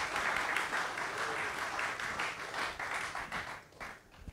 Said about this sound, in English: Applause for the videos we just saw.